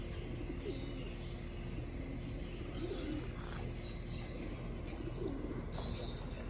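Racing pigeons coo softly at a loft, with a few low, rounded calls rising over steady outdoor background noise and occasional faint chirps.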